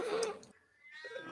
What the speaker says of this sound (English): Cat disagrees.